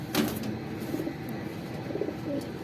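Domestic pigeons give a few soft, low coos close by against a faint background hiss, with no one speaking.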